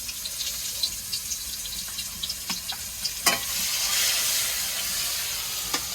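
Chopped onion drops into hot oil left over from frying fish and sizzles steadily, with a few clinks and scrapes from stirring and a bright hiss that swells midway, close and without talk.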